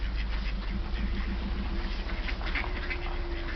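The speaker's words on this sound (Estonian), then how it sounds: "Tulge siia pardid, seal ka." Ducks quacking while being fed by people in Rapla, a rapid run of repeated nasal quacks close by, then more scattered calls over a low outdoor rumble.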